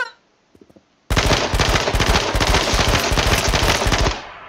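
A gun in H1Z1 fires a rapid, loud automatic burst of about three seconds, with evenly spaced shots running back to back and then cutting off, after a brief faint sound before it.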